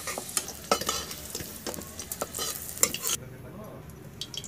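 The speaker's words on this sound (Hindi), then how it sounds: "आलू फ्राई हो चुका है, इसे अब निकाल लेंगे" Fried potatoes in a kadhai stirred and lifted out of hot oil, with sizzling and sharp scraping clinks of a spoon near at hand, the sizzle dropping away near the end.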